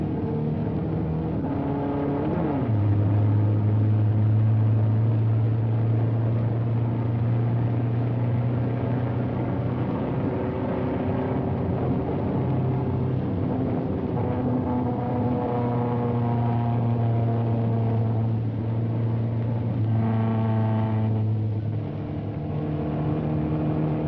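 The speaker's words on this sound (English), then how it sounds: "the Mustang demonstrated excellent roadability on the closed-circuit road course at Daytona Beach" The Ford Mustang I sports car drives the Daytona Beach closed-circuit road course, its engine droning steadily with a rising and falling pitch as it accelerates and shifts, running alone at a fairly consistent loudness throughout.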